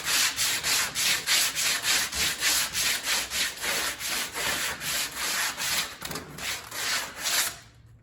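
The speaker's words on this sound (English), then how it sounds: "Clean it up with some" Sandpaper rubs across the wood of a workbench in steady, rhythmic back-and-forth strokes, about two per second, close and clear, before stopping near the end.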